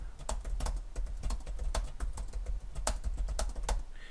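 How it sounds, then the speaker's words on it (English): Fingers typing on a computer keyboard, a quick, close run of crisp key clicks with an uneven rhythm and no pauses longer than a moment. "And now as I type,"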